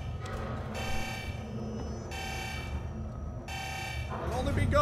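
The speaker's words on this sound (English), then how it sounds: "Imagine if I go through there and alarm will buzz." A harsh electronic buzzer from a security conveyor in the game Alien Isolation sounds in three separate long blasts, evenly spaced, over a low ambient rumble.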